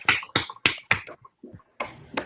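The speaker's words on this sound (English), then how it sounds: "Give some round of applause and snaps" An audience at an art night snaps their fingers: four crisp snaps in a quick, even rhythm, a short pause, then a few looser snaps, all close and clear with no talking.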